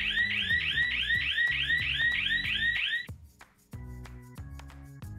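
A smart security floodlight's motion-triggered electronic siren wails loudly in fast repeating rising sweeps for about three seconds, then stops abruptly, leaving a short gap before music-like tones continue.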